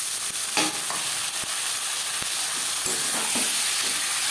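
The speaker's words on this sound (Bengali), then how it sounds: "এবার দিয়ে দেবো ম্যারিনেট করে রাখা মাংস।" Marinated chicken pieces hit a pan of lightly fried onions and garam masala for aloo chicken kosha, giving a loud continuous sizzle and hiss with a few sharp clicks of stirring scattered across it.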